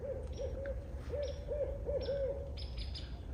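A nearby barred owl gives a steady series of hooting calls, about eight evenly spaced notes, over low ambient rumble and faint high insect-like chirps.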